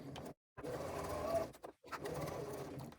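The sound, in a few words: sewing machine stitching around a flat bag flap piece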